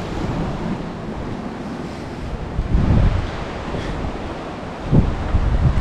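Sea waves wash steadily beside a parking garage in Monaco, a continuous broadband surge mixed with wind rumble, with fuller swells breaking around the third and fifth seconds and no voices.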